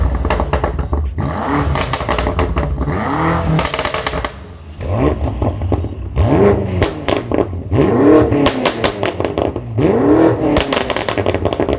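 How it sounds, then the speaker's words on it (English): A BMW F90 M5's loud Remus GPF-back exhaust revs again and again, each rise in pitch ending in sharp crackles and pops, with a brief lull midway. "we've got the Remus GPF back exhaust system, which keeps the factory GPF still in place, but it sounds absolutely insane"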